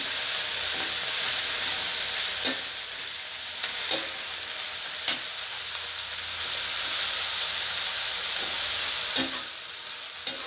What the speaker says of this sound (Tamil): எல்லாமே சேர்ந்து ஒன்றா நல்லா நம்மளுக்கு வதங்கட்டும்